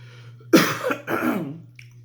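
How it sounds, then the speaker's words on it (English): Two harsh, close coughs in quick succession, the second a rougher throat-clearing hack, over a low steady hum. "Now I'm about to start coughing and my throat is going to get scratchy."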